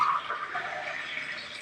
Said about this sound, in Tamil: 4 டம்ளர் தண்ணி சேர்க்குறேன்.